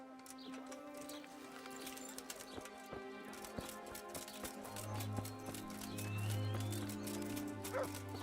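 Dog barks in the medieval role-playing game Kingdom Come: Deliverance, several short woofs scattered through a busy game soundscape with hoofbeats and birds, a steady low hum swelling toward the end.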